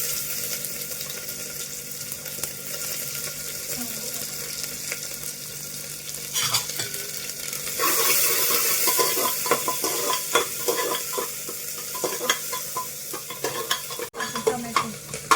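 Onion fries in hot oil with cumin and mustard seeds, a steady loud sizzle with stirring scrapes that swells partway through into a fuller, crackling hiss, and no one talks.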